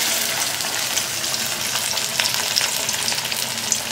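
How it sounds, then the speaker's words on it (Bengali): Pomfret fish sizzles in hot oil, a loud, dense crackle with bright spitting pops close by, steady over a few seconds without any talking. "এই যে এবার গরম তেলে এইভাবে মাছটা ছেড়ে দেবো"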